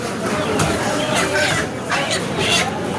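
Chickens and roosters cluck and squawk repeatedly at a busy poultry market, loud and close, with background chatter and crowd noise.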